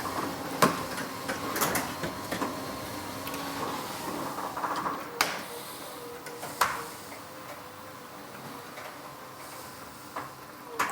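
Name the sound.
motorized sectional garage door closing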